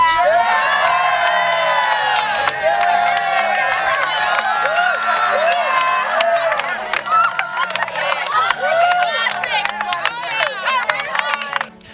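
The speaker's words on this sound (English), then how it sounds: "can I get some cheering from the crowd?" A large crowd cheers and shouts excitedly, with whoops and high children's voices mixed in, sustained loudly throughout before cutting off.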